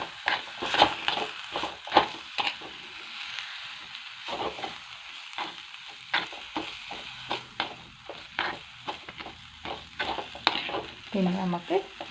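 Broccoli snack coated in masala stir-fried in a pan, with repeated scraping stirs and utensil knocks over a steady, close sizzle for the whole stretch.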